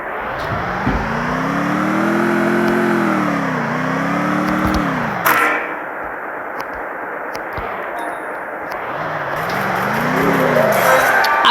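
A motorbike engine revs in the Free Fire video game. The pitch rises and falls in smooth sweeping arcs, loud and close, then drops away before a shorter second rev near the end.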